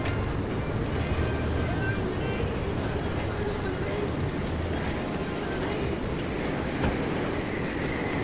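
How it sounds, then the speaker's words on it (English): Loud, constant wind howls around a car in Pacific Drive's stormy weather, a dense rushing roar with occasional faint clatters and a low rumble underneath, while a person talks over it. "But it's loud and windy."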